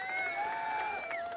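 A pinball machine plays an electronic applause effect, a brief synthesized burst of tonal chimes and sweeping tones over a light crowd-like wash, fairly quiet and over in about a second.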